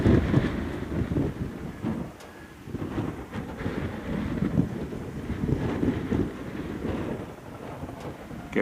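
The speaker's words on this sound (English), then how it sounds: "I'm getting blown around in the wind" Strong wind buffets the microphone around a flying autogyro, producing a steady loud low roar with gusty surges throughout, close and continuous with no speech.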